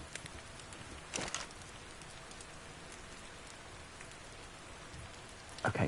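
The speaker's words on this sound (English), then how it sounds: "it's still raining in the game" Rain pours steadily in Ark Survival Ascended, a dense hiss of drops on surfaces with a few louder splashes, no talking over it.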